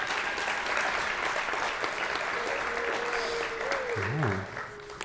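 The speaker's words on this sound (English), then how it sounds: "Let's give Olivia a round of applause." Steady applause from an audience at a university student and staff awards ceremony continues throughout, fairly distant and even, with a brief tonal sound near the end.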